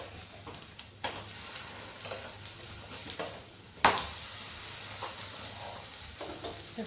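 A chakuli pitha pancake fries in a pan with a steady soft sizzle, broken by a few scraping turns of the spatula and one sharp clack near the middle, with no talking.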